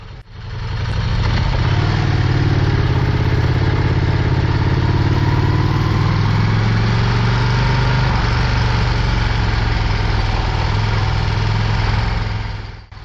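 A motorcycle rides along an unpaved road with a loud, steady engine drone and low rumble plus wind buffeting, holding constant from start to finish after a quick fade-in.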